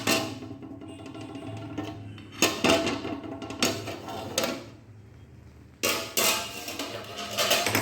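A cooking pot lid being lifted off while steaming a sweet palm-fruit dough, with sharp metallic clanks and scrapes at intervals over a low steady kitchen hum, close and fairly loud.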